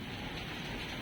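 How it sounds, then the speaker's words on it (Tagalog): Heavy rain pours down in a steady, even hiss with no breaks. "Malakas ang ulan."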